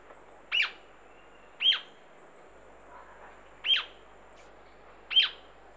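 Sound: jacamar bird in the Amazon

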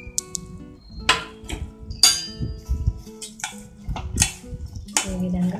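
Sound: roasted flattened rice (poha) being added and mixed in a pot

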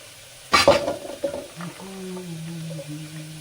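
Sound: stirring coconut milk biryani in a pot

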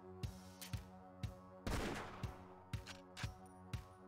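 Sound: sniper rifle gunfire in an Xbox One video game

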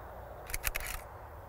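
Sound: camera shutter taking a slow-shutter photo

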